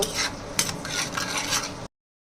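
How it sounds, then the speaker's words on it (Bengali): Turmeric, chili powder, fish masala and salt sautéed in a pan for a tomato fish curry; close, continuous rasping stir-scrapes with faint sizzle, ending abruptly in silence, no talk. "মশলাগুলো ভালো করে কষিয়ে নিব"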